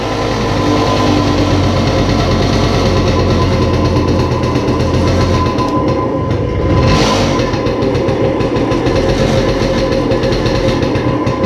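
A Flandria SP747 moped engine runs after a kick start with a loud, continuous, close-up drone that holds steady throughout.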